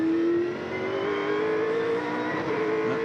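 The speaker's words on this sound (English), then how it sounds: "The really interesting thing about watching someone drive a V8 supercar, Neil, is the amount of trailing brake." A V8 supercar engine at a Sandown race, 2001 Shell Championship, roars loud and close with a sustained high-pitched drone that dips slightly then climbs steadily as it revs through the gears.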